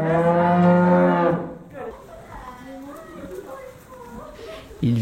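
Mirandaise cattle, a breed being conserved, moo loudly and close at the start, with French speech continuing over farm background afterward and another cow call beginning at the end.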